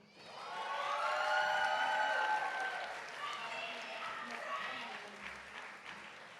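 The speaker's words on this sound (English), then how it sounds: "Let's give another round of applause and congratulations to our graduates." Crowd applause and cheering for graduates at a kente stole ceremony, loud sustained clapping with voices and whoops mixed in, easing off toward the end.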